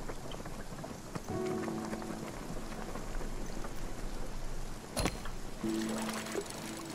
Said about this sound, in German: Was im Regengebiet sind wir noch drin.